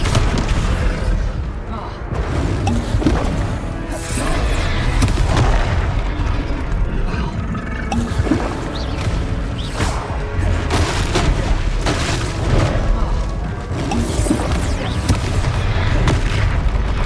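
A Descendo spell slam in Hogwarts Legacy lands as a heavy booming impact within dense combat noise, with crashes and bursts repeating throughout while voices talk over the fight.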